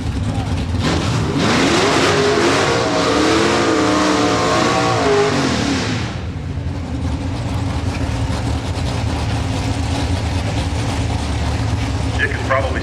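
A manual-transmission drag racing car launches at a dragstrip event, a loud engine roar rising in pitch for several seconds and then dropping to a rumbling idle, with a crowd murmur underneath.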